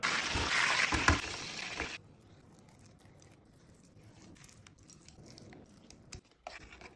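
Banana pieces frying in hot oil give a loud, bright sizzle for the first two seconds, then fade to a faint, low crackle with a few small clatters.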